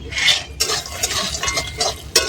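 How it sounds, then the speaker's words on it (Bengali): Matar dal bori, dried lentil dumplings, frying in oil in a pan, with a steady sizzle broken by sharp scraping and stirring bursts from a utensil against the metal, close and with no voices. "আমি এখানে মটর ডালের বড়ি নিয়ে নিয়েছি, বড়িটা ভেজে নেব।"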